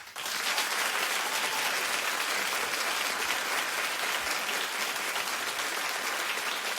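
A talk-show studio audience claps steadily and densely, loud and sustained for several seconds with no voices over it.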